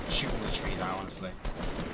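Rapid gunfire from an online shooter battle royale, several sharp shots in quick bursts spread across the moment, mixed with background game noise and a voice talking over it.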